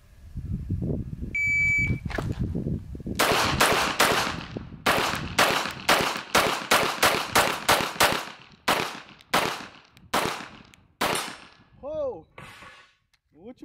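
A rapid string of sharp gunshots at a shooting range during a timed reaction drill, sixteen shots in quick irregular bursts, loud and close, with a few faint beeps and scraps of noise around them.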